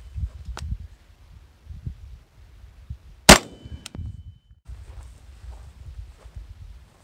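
XM80 rifle round from a 16-inch barrel striking an AR-600 steel plate at 20 feet outdoors: one sharp, loud gunshot with an impact ring, amid wind noise and faint rustling.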